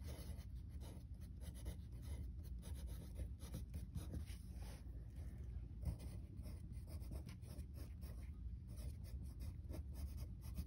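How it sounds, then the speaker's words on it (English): A General Pencil china marker writes by hand on a surface with a continuous run of soft, scratchy strokes, faint and close, with no talking. "I will literally write it down here in a few minutes."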